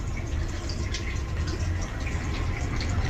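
Tap water runs steadily in a bathroom, a continuous rushing, splashing flow that stays loud and even throughout with no voices over it.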